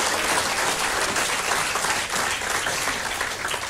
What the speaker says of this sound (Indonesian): Tepuk tangan dulu dong buat sinergi